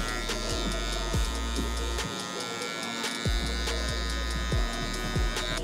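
Electric hair clippers hum steadily while buzzing through hair during a high taper barber cut, with a close, continuous drone broken by brief pauses as the clipper lever is opened to blend down.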